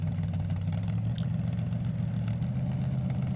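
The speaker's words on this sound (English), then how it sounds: "You guys have seen the video of just the engine running" A car engine with a used camshaft runs at a steady idle, a loud continuous low rumble heard up close with no voices.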